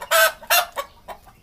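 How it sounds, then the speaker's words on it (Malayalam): Native country chickens and roosters cluck in a backyard coop, several loud close bursts in quick succession, then softer clucks trailing off, with no talking. "കോഴികളുടെ കൂടാണ്,"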